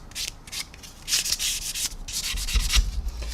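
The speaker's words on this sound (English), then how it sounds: "I'm taking an old sanding sponge and I'm just literally just running it over." A worn, fine sanding sponge is rubbed over the smooth painted surface of a 1/144 Zvezda Boeing 737-800 model airliner, giving close, steady scratchy brushing strokes in short repeated passes, with no voices.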